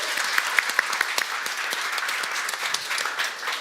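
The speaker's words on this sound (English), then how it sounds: "Round of applause once again." A conference and awards audience applauding steadily, with a few sharp nearby claps standing out early on, sustained and fairly loud.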